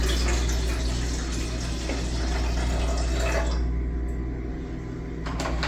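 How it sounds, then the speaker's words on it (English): Tap water runs steadily into a kettle for bread-making, a continuous close splashing rush that thins and drops near the end, with no talking. "measure out some water, get it in the kettle, get it warmed up"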